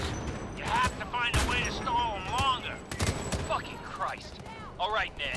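Gunfire in the video game Homefront: The Revolution while defending an armory, with bursts of shots cracking out repeatedly under continuous excited talk from a player.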